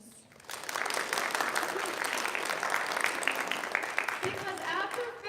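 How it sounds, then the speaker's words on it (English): Sustained applause from a workshop audience of teachers, a dense wash of clapping that starts abruptly and holds steady and loud for several seconds, with a dip and swell near the end. "I would like you to please break into wild applause"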